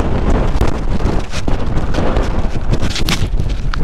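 Strong gusty wind on a seaside beach at Zoutelande during paragliding, buffeting the microphone with loud, continuous roaring rumble and irregular bursts throughout.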